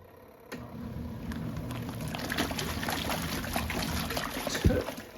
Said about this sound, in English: It's shooting, it's dripping the water all out here. It's literally like spitting it out here.